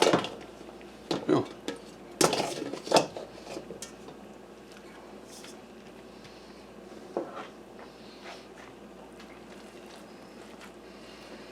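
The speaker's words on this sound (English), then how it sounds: "I'm going to empty this out into a bowl." Homemade fresh cheese is emptied from a pot into a bowl in a kitchen: clattering knocks and watery splashes up close, then quieter settling sounds. A voice briefly exclaims.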